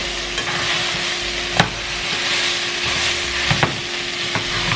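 A spoon stirs seasoned vegetarian food frying in a pan, with a steady close sizzle and a few distinct scraping strokes against the pan.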